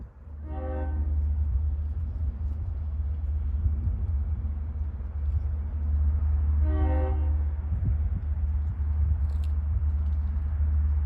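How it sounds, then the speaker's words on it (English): A train approaching along the Oyster Bay Branch, heard as a steady low rumble throughout with two short horn blasts, one near the start and another around the middle, over constant trackside noise. "And approaching at 7:30 is train 564."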